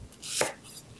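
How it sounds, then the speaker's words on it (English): A knife cuts down through a large white onion as it is quartered for a Mexican beef stew, one crisp close chop rising to a sharp crunch in the middle, alone in a quiet kitchen. "you're just gonna take a large white onion and I just quarter it"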